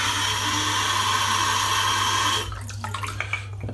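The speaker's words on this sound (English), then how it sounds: "I'm just going to empty the water out into the sink." A steady rush of running water stops abruptly, then a few splashes and drips follow as water is emptied from a natural hair shaving brush into a sink, close by.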